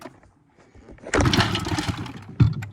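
An old Evinrude 20 hp outboard motor being pull-started, sputtering to life after a second of quiet and then running roughly and loudly with a sharp knock near the end.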